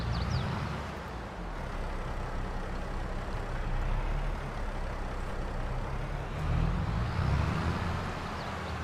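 A Massey Ferguson 7700 tractor in Farming Simulator idles with a steady, loud low diesel drone that rises slightly twice, with no one talking.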